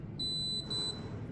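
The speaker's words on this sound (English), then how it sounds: "switching that on, give me 2 beeps" Two high electronic beeps in quick succession, clear and close over a low background hum.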